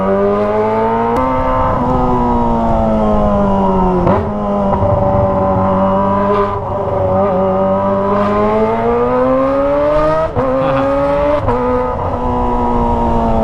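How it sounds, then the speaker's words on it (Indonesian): A Kawasaki ZX25R fitted with a Toce exhaust revs hard while riding through town, its high-pitched inline-four scream rising and falling through repeated throttle blips and gear changes, loud and close throughout. "Bikin orang tutup telinga guys kalau gua geber ya"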